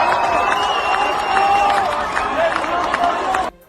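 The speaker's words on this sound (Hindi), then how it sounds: "प्रदर्शन के दौरान वो तालियां पीटते और जोर जोर से चिल्लाते नजर" Crowd of anti-government protesters clapping and shouting in unison, a dense, loud babble with rhythmic claps, continuous until it cuts off abruptly at the end.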